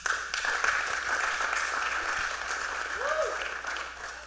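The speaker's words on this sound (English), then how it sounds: "Like y'all should clap for that." Audience applause at a youth town hall, a steady wash of clapping from the crowd lasting throughout at moderate loudness, with a brief rising tone near the end.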